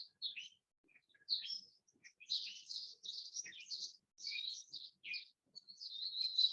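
Birds chirp and tweet outdoors in short, bright bursts, several calls overlapping and trailing off, moderately close against an otherwise quiet background.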